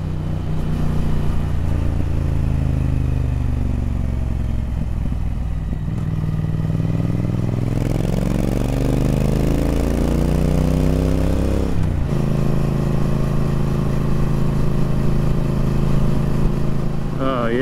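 Triumph Speed Twin motorcycle engine revving hard with rising and falling pitch, loud and close throughout, a steady vibrating roar wound up high on new asphalt.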